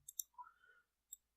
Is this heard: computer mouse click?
yes